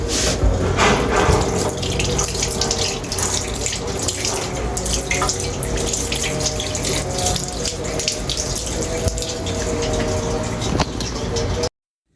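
Kitchen sink with a running tap used for washing, a close, continuous rush and splash of water with clattering handling sounds throughout, stopping abruptly at the end.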